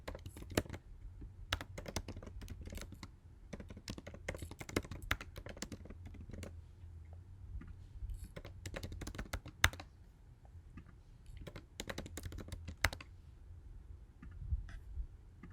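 Rapid clicking of a computer keyboard as account information is typed in, irregular bursts of close keystrokes with short pauses, no talking.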